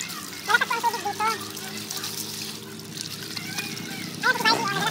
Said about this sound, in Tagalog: Kasi malakas po ang tubig dito.